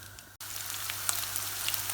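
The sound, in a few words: lamb meat frying with spices in a pot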